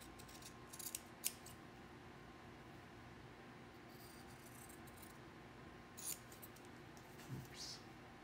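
Scissors snip a doll dress pattern in a few quiet, separate cuts, with crisp short clips early on and a couple more near the end over a faint background hum.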